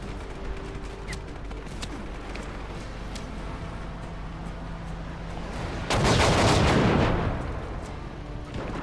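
Gunfire in the open-world shooter Just Cause 3, a steady low rumble of distant shots that swells into a loud, dense burst of shooting or blasts for about a second near the end.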